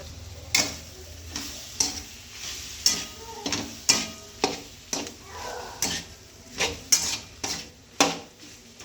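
Spicy brinjal bharit mixture stirred in a pan, a spoon scraping and knocking in steady rhythmic strokes, close and clear, with a faint sizzle underneath.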